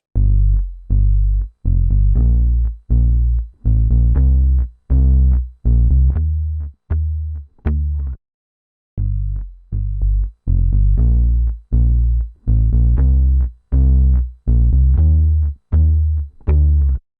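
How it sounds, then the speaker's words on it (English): A distorted, synth-like bass line made from a real guitar processed with Soundtoys effects pulses in short repeated notes with a throbbing, processed tone, pausing briefly midway before the pattern resumes. "you got a really cool kind of, bass guitar sound"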